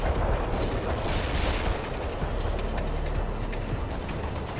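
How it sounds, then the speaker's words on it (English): A heavy airstrike in the video game World in Conflict, a dense, continuous barrage of rumbling explosions and crackling blasts that stays loud throughout. "Heavy airstrike is inbound to designated coordinates."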